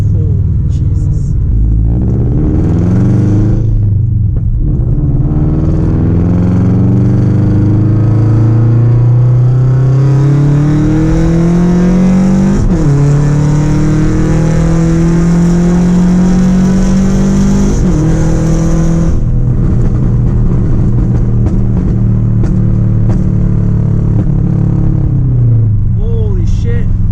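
A loud, close car engine is heard from inside the car as it accelerates toward a highway. Its revs climb in long rising sweeps, then drop sharply at each of several rough gear shifts.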